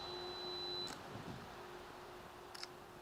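Fuji XT3 camera self-timer in woodland, a faint thin steady beep tone that cuts off, followed later by a quick soft shutter click, under light outdoor hiss with no voices.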